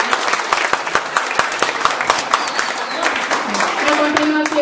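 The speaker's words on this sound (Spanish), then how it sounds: "démosle un aplauso." Applause from an audience at a school event, with distinct, rhythmic claps from a number of people, fairly close and loud, and a voice briefly heard near the end.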